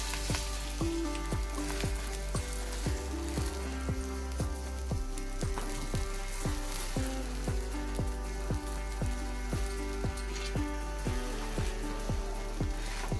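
Pav bread warming in a pan with pav bhaji masala, giving a steady, close sizzle of frying with repeated soft scraping and tapping strokes throughout, no voices.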